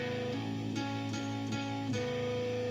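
Low guitar strings picked one by one in a steady, ringing pattern, each note sustaining into the next, played alone and up close.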